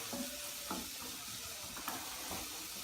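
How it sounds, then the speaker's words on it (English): Onions frying in a pan with a steady sizzling hiss throughout, broken by a few brief clinks and stirring scrapes, close and fairly quiet. "You fry the onions and let it caramelize"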